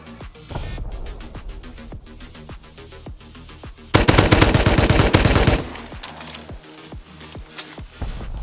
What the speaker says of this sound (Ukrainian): В районі лунали постріли з кожного куточка